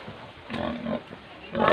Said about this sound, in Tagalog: Ay, baboy.